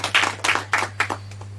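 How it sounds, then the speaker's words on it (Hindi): Audience clapping for a contestant on a junior quiz show, a few short bursts of hand claps coming in uneven waves over a faint steady hum, brief and thin rather than a full roaring ovation. "एक बार जोरदार ताली हो जाए उनके लिए।"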